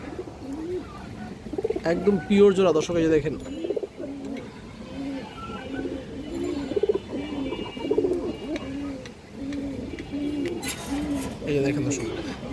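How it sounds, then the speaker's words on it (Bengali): A pair of red-gear, boot-beaked Monajak pigeons coo repeatedly in rolling, throaty phrases close by, while someone talks over them throughout. "লাল গিয়ারের বুট ঠোঁটের একজোড়া মনাজাক কবুতর দর্শক"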